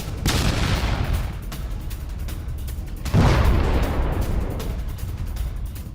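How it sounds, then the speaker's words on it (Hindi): Rockets and gunfire in a Hezbollah attack in southern Lebanon, heard as dense rumbling blasts and crackling fire, with a second loud boom about halfway through that swells and rolls on. "हमला किया और एक चर्च पर कई रॉकेट दागे।"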